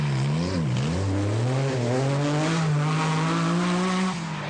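A Lancia Stratos rally car storms through a stage of the 1979 RAC Rally, its engine loud and close with rising and falling revs through gear changes and a sustained high-revving howl that cuts off abruptly.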